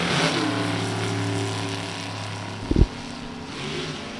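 Drag racing car with a 565 big block Chevrolet engine at a sportsnationals event, a steady droning engine hum with tonal bands, then a brief sharp blip around the middle before settling again.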